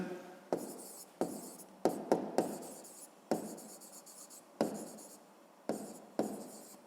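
Pen or pencil writing a math answer on paper in a series of close, distinct scratchy strokes, each sharp start trailing off, repeated about ten times in an irregular rhythm; no voice.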